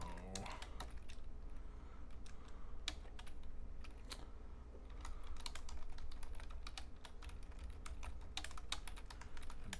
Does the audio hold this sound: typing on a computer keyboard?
yes